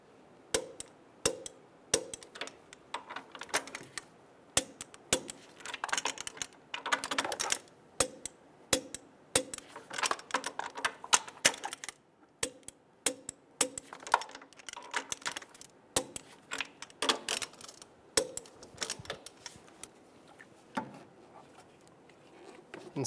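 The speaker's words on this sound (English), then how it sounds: "Snug down all of the bolts." Engine mount bracket bolts on a 2011-2014 Hyundai Sonata are snugged down with a ratchet, giving irregular sharp metallic clicks and clacks in quick bursts, close and moderately quiet across a long stretch.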